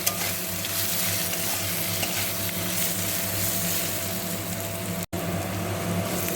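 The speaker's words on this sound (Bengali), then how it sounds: "এবার মশলাগুলোকে ভালো করে নাড়াচাড়া করে আলুর সঙ্গে মিশিয়ে নেব" Spices and potatoes are stirred in a sizzling frying pan for a fish-head muri ghonto, giving a constant loud frying hiss with scraping movement and one brief dropout near the end.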